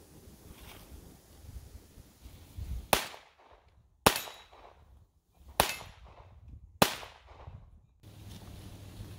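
Four loud, sharp reports from a Ruger 22/45 Mark III .22 pistol fired at steel targets outdoors, spaced about a second apart, each with a brief ringing decay over faint wind.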